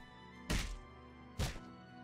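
Two heavy, dull punching thunks land on objects in The Elder Scrolls IV: Oblivion, spaced about a second apart and loud against a quiet game background.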